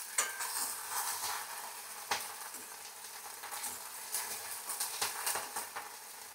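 Kepula flowers heating in a pan for a village-style chutney, giving a soft continuous sizzle with faint scraping stirs and the occasional clink of a utensil against the pan, close and fairly quiet with no talking.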